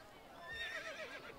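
A horse whinnies when it is called in Assassin's Creed Brotherhood. It is a single short, fairly quiet neigh with a rising then wavering pitch.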